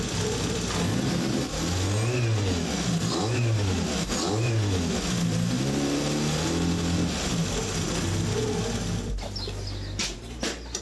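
A Peugeot 106 XSi engine, suspected faulty injectors, runs unevenly and alone, its pitch rising and falling in a wobbling, irregular rhythm, with a few sharp clicks near the end.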